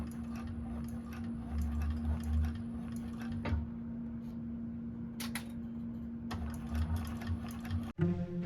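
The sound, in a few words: sewing machine stitching a seam, 1341 cylinder arm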